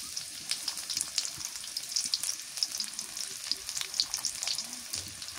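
Chopped onion sizzles and fries in a hot pan, a steady crackling hiss at close range with small stirring scrapes, no talking.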